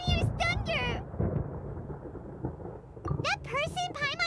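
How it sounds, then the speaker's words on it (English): Low rolling thunder rumbles in a video game, a dull broadband roar in the middle that fades back under character voices speaking before and after. "Paimon hears thunder!"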